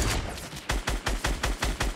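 Rapid automatic gunfire in the video game Fortnite, a loud close burst of about eight evenly spaced shots after a brief opening volley, with no talking.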